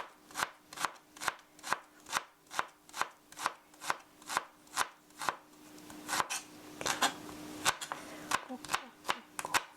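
Knife chopping ingredients on a cutting board for a cheese hamburger steak, a steady run of crisp evenly spaced chops, then a brief rustle and a few more cuts, close and clear.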